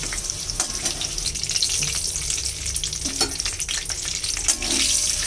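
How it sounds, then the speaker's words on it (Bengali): Small cut potato pieces frying in a pan of hot oil, a steady close crackling sizzle with occasional stirring scrapes throughout, no voices. "ভেজে নিচ্ছি।"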